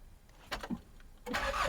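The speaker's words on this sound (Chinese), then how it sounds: "那现在我把车子发动" Mitsubishi Delica camper van engine cranking with a brief starter whir, then catching and settling into a steady running rumble, heard close by.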